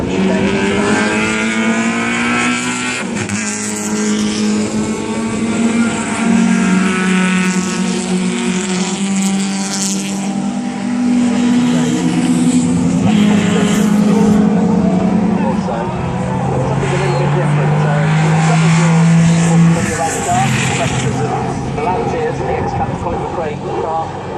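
Rally cars, including Ladas and a Porsche, drive through a rally course at a car festival, with loud sustained engine drone and shifting revs throughout, mixed with crowd or commentary noise.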